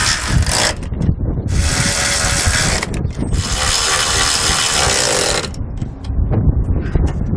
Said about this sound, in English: I'm using a 9/16 socket to get these tightened down.